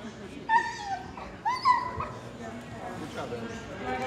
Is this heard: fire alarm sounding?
no